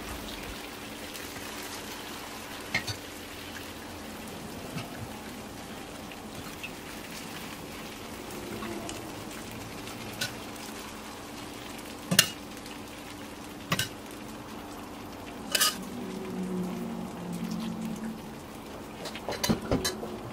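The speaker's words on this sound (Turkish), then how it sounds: "Ilık olan şerbeti üzerine gezdirerek döküyorum." Warm syrup is poured over a hot baked dessert, giving a soft, steady sizzle and crackle like light rain that carries on throughout, with a few sharp clicks and taps standing out.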